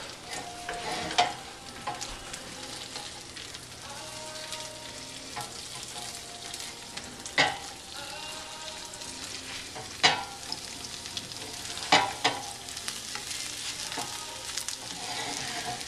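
Eggs fry in a little olive oil on a home breakfast griddle, a steady soft sizzle running throughout, broken by a few sharp scrapes and taps of a utensil.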